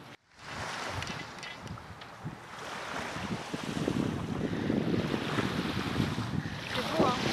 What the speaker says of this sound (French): on se retrouve au bord de la mer